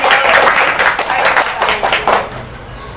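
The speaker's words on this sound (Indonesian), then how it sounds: "Tepuk tangan dulu dong." A group of students claps together in an Indonesian classroom during a group guidance session, a burst of hand claps at close range that thins out toward the end, with some voices mixed in.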